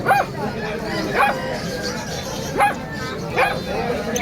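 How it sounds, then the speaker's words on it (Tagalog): Several dogs bark and yip in short bursts a few seconds apart, close by, at an outdoor pet market in Bocaue, over a noisy background with people talking. "Mga aso ni Boss Dante paninda niya."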